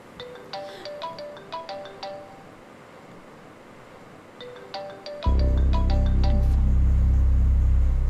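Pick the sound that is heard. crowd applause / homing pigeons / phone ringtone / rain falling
phone ringtone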